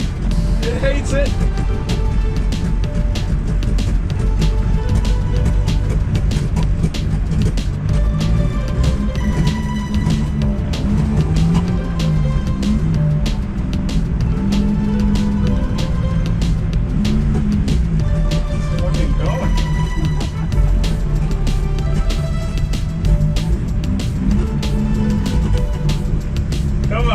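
A rare barn-find BMW, unused for over 30 years, drives along and shifts into second gear, its engine labouring loudly and steadily throughout while a person talks over it.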